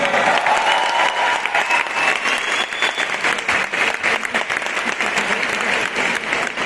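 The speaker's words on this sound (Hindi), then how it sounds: "हमारे ब्रॉन्ज डायरेक्टर्स के लिए बहुत ज्यादा जोरदार तालियां." Loud, sustained applause from a large audience at an awards function in a stadium, honouring bronze directors, dense clapping filling the whole stretch without pause.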